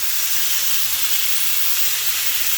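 Chicken sears in a hot pan for a creamy crockpot chicken dish, giving a steady, close and fairly loud broadband hiss and sizzle that holds evenly throughout, with no talking.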